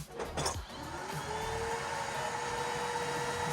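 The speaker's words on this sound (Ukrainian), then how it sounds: "Включаємо пилосос." A vacuum cleaner whirs up after a brief click and thump, its motor rising in pitch and settling into a steady, fairly quiet drone; it is connected for dust extraction while routing pallet wood.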